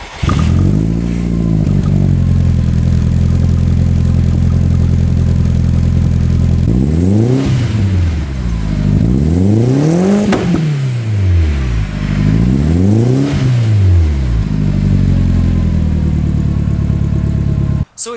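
An Audi TT with a modified exhaust idles loud and close, then rises in three sharp revving sweeps before settling back into a steady rumble.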